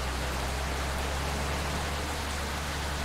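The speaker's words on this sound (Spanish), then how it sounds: "Y vaya chaparrón que nos está cayendo" Heavy rain pours steadily in the BUSSID bus driving game, a dense, constant hiss filling the scene from start to finish with no voices over it.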